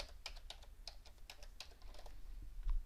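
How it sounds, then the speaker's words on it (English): Close, quick typing on a computer keyboard, with a steady stream of light key clicks and no speech. "go into your browser and then just type in the domain name"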